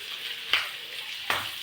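Pork fat sizzles in hot cooking oil for adobo, a steady close frying hiss with two brief louder bursts as the pieces are stirred or moved.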